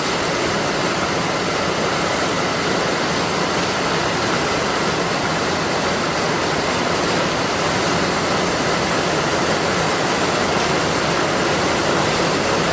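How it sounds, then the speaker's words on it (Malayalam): Heavy rain pouring down outdoors, a dense, constant broadband roar at steady loudness from start to finish with no breaks and no voices. "വെളിയിൽ ഇപ്പം നല്ല മഴ പെയ്തുകൊണ്ടിരിക്കുന്നുണ്ട്"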